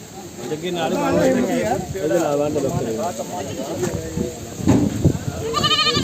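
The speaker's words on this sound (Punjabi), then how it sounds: "ਲਓ ਜੀ ਆ ਬੱਕਰਾ ਹੈ, ਗੁਲਾਬੀ ਕੰਨ ਦਾ ਦੋਸਤੋ ਚਿੱਟੀ ਅੱਖ ਬਰਫ ਵਰਗੀ" A goat bleats near the end at a busy goat market, where someone talks loudly over the crowd through most of the clip.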